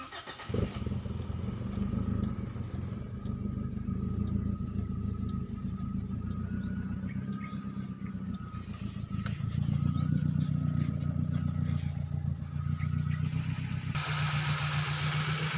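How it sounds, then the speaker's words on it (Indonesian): A car engine idles steadily while warming up cold in the morning, a low continuous rumble at close range with no voices, holding an even level throughout. "Mesin dalam keadaan hidup kita panasin pagi nih."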